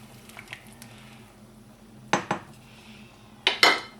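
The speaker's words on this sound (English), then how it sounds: "Once you see that it is boiling, give it a stir." A spoon stirs boiling lentil dal in a pot, giving two short pairs of clinking, scraping strokes against the metal, separated by a quiet stretch with a faint background simmer.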